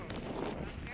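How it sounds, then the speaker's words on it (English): Strong outdoor wind buffeting a microphone with a continuous broadband roar for the whole second, loud and close, during a drone flight in gusty conditions. "the wind's getting even worse"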